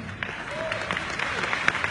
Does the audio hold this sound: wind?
no